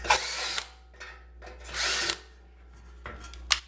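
A power drill bores small holes in a build project, partway through from one side to avoid a burr. It runs in about four short, close, whining bursts separated by brief pauses.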